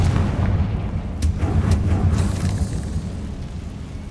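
The Confringo fire spell in Hogwarts Legacy bursts into a rumbling explosion, with a few sharp cracks over a heavy booming roar that slowly fades, loud and without talk.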